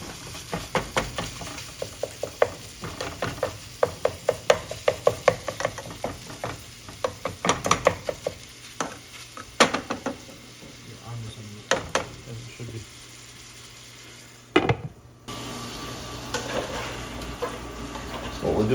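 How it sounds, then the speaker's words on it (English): Ground beef browning in a large lidded pot in a kitchen, with steady sizzling and frequent sharp scrapes and knocks of a utensil against the pot, close and rhythmic, a short pause near the end. "What we're doing right now is just finishing browning the ground beef."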